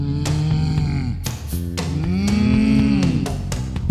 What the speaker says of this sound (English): Pretty cow.